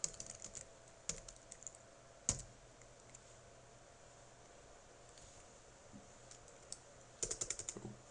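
A web address is typed on a computer keyboard: quiet, scattered key clicks in short bursts with pauses between, ending in a quick run of taps.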